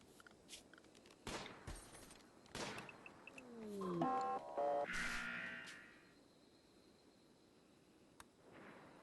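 Gunfire bursts from a pirate raid in the colony game RimWorld, attackers armed with shotguns, with sharp loud cracks scattered through the clip amid other game effects and tonal cues.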